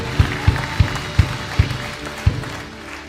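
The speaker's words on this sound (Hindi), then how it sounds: "can you clap for them?" A church congregation claps in a slow, loose rhythm, about six distinct hand claps spaced roughly evenly, fairly close, over a low room murmur.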